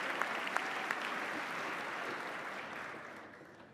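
Audience at the Massachusetts State of the Commonwealth address applauds and cheers steadily, a dense wash of clapping that holds strong before tapering off toward the end.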